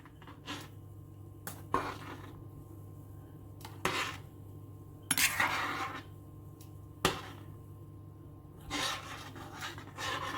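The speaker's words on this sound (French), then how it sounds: "Et je vais remuer un petit peu." A spoon scrapes and clinks against a pot of egg and potato soup in brief irregular strokes, quiet and close over a soft steady background hum.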